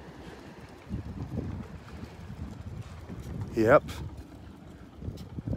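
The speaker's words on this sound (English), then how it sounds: "I'm hearing a dolphin out in here." A dolphin surfaces at night in dark water near a boat and gives one short, sharp breathy blow. Steady wind and water wash surround it, and a voice speaks briefly.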